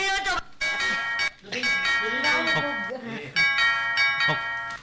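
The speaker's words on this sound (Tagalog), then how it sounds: "May nagdo-doorbell!" A doorbell chimes repeatedly in a home, its bright ringing tones recurring in bursts over a noisy background, with people talking loudly throughout.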